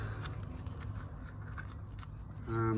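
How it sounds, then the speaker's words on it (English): Scissors snip through heat-proof exhaust wrap for a Pontiac Trans Am exhaust rattle repair, a steady close run of crisp cutting strokes with a louder handling noise at the end. "So I'm going to cut a couple of bits out and double fold it, roll it over"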